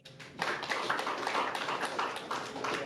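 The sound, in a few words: applause from the audience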